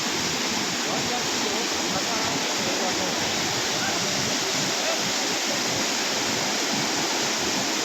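Flood water from the breached Mundeshwari river embankment at Harinkhola rushes past in a loud, continuous roar. The dense, unbroken churning holds steady with no pauses.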